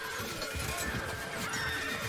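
Horses neigh and whinny in the Stronghold Warlords strategy game, a fairly quiet, steady stretch of animal calls with faint hoof clip-clop beneath, no talk over it.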